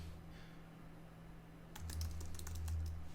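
Quick, light keystrokes on a computer keyboard entering a caller ID name, a short burst of soft clicks over a faint steady electrical hum after a quiet start.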